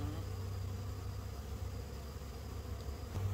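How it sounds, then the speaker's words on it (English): Honeybees buzzing on a hive frame pulled during a hive inspection in Oklahoma, a close and steady drone humming without a break. "That's two good frames of bees."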